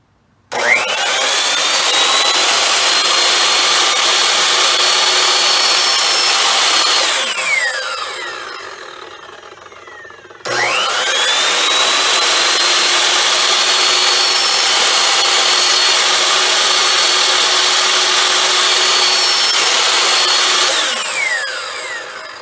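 A power saw cuts slots into wood for a champagne wall shelf, running loud and steady for about seven seconds, winding down, then starting again for a second long cut with no talk.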